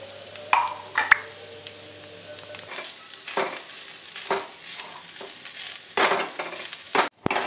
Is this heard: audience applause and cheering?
no